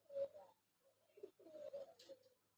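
Pigeons cooing softly on a rooftop near trees, a few low, throaty coos in short rolling bursts, fairly close and quiet with faint background hum.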